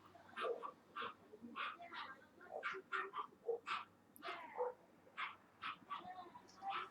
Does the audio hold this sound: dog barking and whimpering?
yes